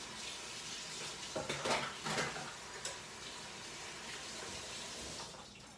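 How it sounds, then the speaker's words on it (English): Hands washed under a running kitchen tap while cooking, a steady faint wash of water with a few brief splashy bursts in the middle, fairly quiet and with no talking. "Let's wash our hands."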